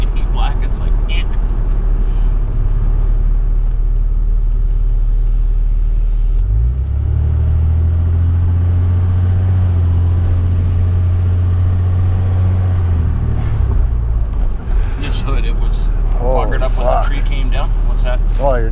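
A 2003 Dodge engine rumbles close and loud, swelling into a sustained deep revving drone midway before dropping back to idle, with people talking over it.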